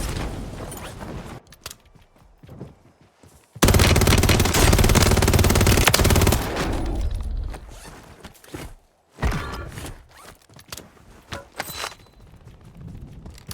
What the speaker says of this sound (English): I actually see the enemy shoot into the forest